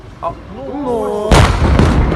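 A gas station blows up after a truck fire, a sudden loud boom with a deep, rolling rumble after a person's voice, then a second burst echoing nearby.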